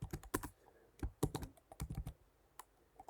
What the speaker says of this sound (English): type your domain without the 3W